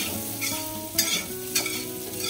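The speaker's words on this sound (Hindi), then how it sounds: "थोड़ा नारियल को हल्का सा थोड़ा हम चला लेंगे" Cabbage sabji with grated coconut being stirred in a hot pan: a low sizzle under repeated scraping strokes, two of them louder and brighter, close and clear with no talking.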